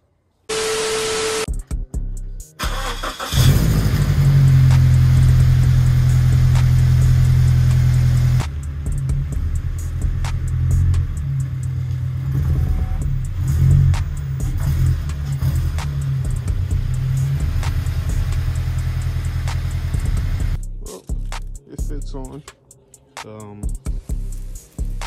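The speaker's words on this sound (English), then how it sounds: "let's go ahead and move the car to the center." A car engine starts and idles steadily as the car is moved to a new spot, a loud, broad rumble holding for about twenty seconds before cutting off, with brief clicks and handling noises at the start and end.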